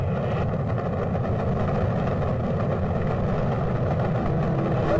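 Rocket engines roaring at launch, a dense steady low rumble with broad noisy texture, loud and continuous throughout with no talk.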